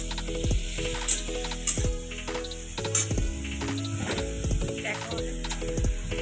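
Vegetables sizzle in a hot pan as they are stirred, a steady frying hiss with light scraping, heard under background music.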